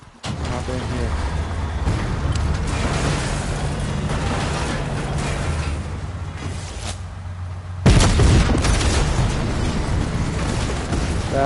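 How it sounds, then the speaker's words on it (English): Explosions boom in a Fortnite match, dense rumbling blasts layered over game sound, with a sharp loud burst about two thirds through followed by more crackling noise. "That's beautiful explosions."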